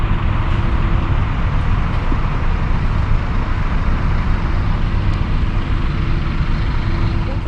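Heavy, steady street traffic rumbles nearby, with buses and other vehicles producing a constant low droning roar throughout.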